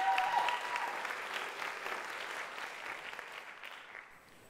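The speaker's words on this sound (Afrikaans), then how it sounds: "Ek dink ons kan vir haar nog 'n hande klap gee" Audience clapping at an Afrikaans talent gala evening, a steady broad wash of many hands, loud at first and fading gently toward the end, with no talk over it.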